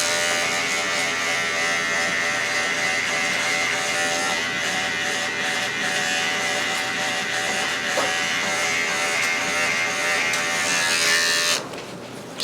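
Electric hair clippers fitted with a 2-guard, lever fully open, buzz steadily while cutting a shadow fade, a loud close continuous whine that cuts off abruptly near the end.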